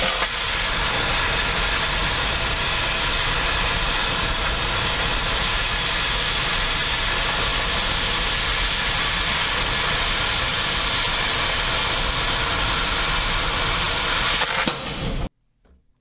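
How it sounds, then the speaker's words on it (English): An oxy-fuel cutting torch roars steadily while bevel-cutting a steel coupon, a loud continuous hiss and rush of oxygen jet lasting about fifteen seconds before cutting off abruptly into near silence. "Place the edge so the oxygen jet stream will remove the line as you complete the bevel"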